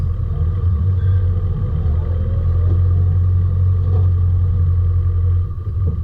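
A 4WD vehicle being winched up a steep bush track, a steady low engine rumble droning without break, close and constant, fading slightly at the very end.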